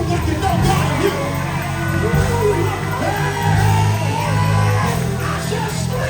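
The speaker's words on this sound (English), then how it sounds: "Somebody scream in this room like you know God is here." A church congregation screams and shouts together in a loud, sustained roar of crowd voices at an anniversary service, with rising and falling whoops throughout.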